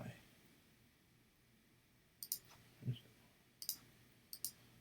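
Computer mouse clicks, a few sharp, close taps in small pairs and clusters over a faint room hiss, with a soft low thump in between.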